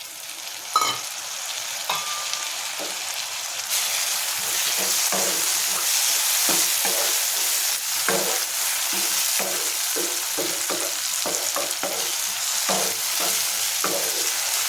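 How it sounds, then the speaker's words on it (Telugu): Dried prawns frying in ginger garlic paste in a pan, a steady loud sizzle running throughout with repeated scraping stir strokes layered on top, no voices. "ఇప్పుడు మనం ఎండ్రాయిలు తీసుకున్నాం కదా, ఎండ్రాయిలు కూడా వేసేసుకుందాం"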